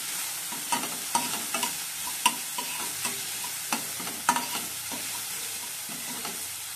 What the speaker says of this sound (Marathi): ह्याच्यामध्ये थोडंसं मी अद्रक घातलंय आणि आता ह्याच्यामध्ये घालायचे आपली ग्रीन